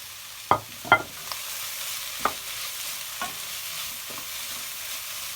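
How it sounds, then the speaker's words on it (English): Peppers frying in a wok for Singapore noodles, stirred with a few sharp scrapes and clacks near the start and then sparser knocks over a steady sizzle, close and fairly quiet. "give this a lovely stir"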